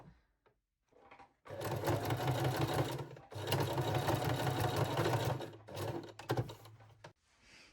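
Sewing machine stitching a lingerie strap forward and backward: two long bursts of rapid, close mechanical whirring separated by a brief stop, followed by shorter stitching spurts.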